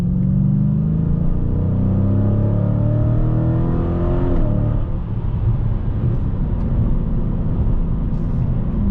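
A 2020 Dodge Challenger Scat Pack Widebody with an 8-speed automatic revs hard on the throttle, its deep engine rumble climbing steadily in pitch, then settling into a steady loud drone.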